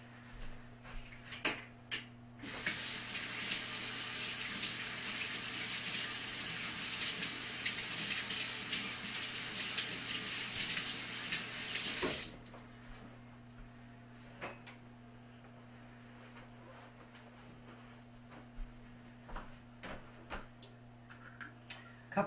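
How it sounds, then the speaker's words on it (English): Tap water runs steadily from a kitchen faucet for about ten seconds as hands are washed during cheesecake baking, a broad hiss that stops abruptly, followed by a few faint clicks and knocks in a quiet room. "I'm going to wash my hands real quick."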